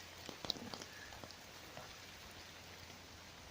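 Storm rain patters softly and far off around someone sheltering under a tree, with a few sharper drops landing near the start before it settles into a faint, even hiss.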